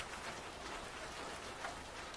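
Rain falling outside at night, a soft, continuous hiss of drops at low level with no voices, steady from start to finish.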